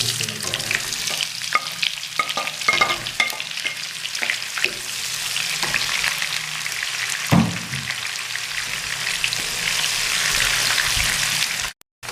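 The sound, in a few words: onions frying in oil with whole spices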